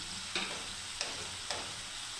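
Tomato paste frying and being stirred in a pan: a constant close sizzle with three sharp clicks of the spoon against the pan spaced about half a second apart, no talking.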